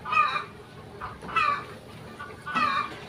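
Village chickens being given Ranikhet vaccine in their drinking water cluck in three distinct bursts spaced about a second apart, close and clear with no talk.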